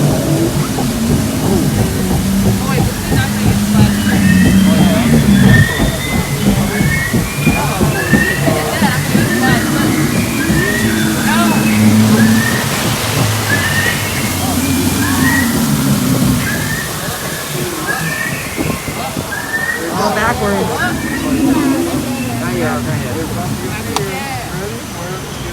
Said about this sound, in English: I hope a huge splash of water goes right in front of your camera